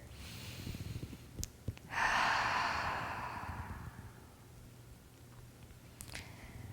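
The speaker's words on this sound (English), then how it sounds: "taking a nice big breath here" A single deep breath taken during a progressive muscle relaxation exercise, a soft airy rush that swells and then slowly fades over a couple of seconds, close and fairly quiet, with no talking.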